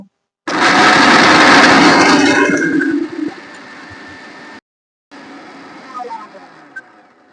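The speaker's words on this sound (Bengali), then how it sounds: "এরপর আমি গুড়িয়ে নেব" An electric grinder runs loud and steady for about two and a half seconds while grinding homemade red tooth powder with salt, then winds down, stops, and gives a quieter second burst.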